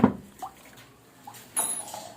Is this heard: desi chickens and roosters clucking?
no